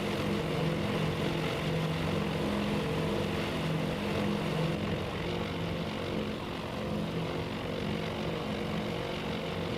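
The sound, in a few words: propeller aircraft in video game Task Force Admiral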